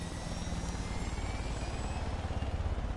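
Helicopter in the video game Far Cry 5, a steady rotor and engine drone with a rhythmic low thumping, continuous and fairly quiet, no voices.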